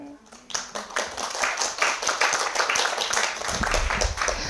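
An audience claps along in a lecture hall at a health talk after singing, with quick rhythmic clapping from a small crowd mixed with voices and some low rumble near the end.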